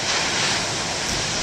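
Big ocean waves breaking on a shore on a snowy day, a steady broad wash of surf with some wind noise, close and continuous, with no voices.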